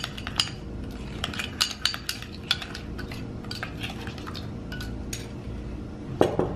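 A spoon stirs chana chaat with lemon and olive oil in a bowl, giving repeated light clinks and scrapes at an irregular pace, with a sharper knock near the end.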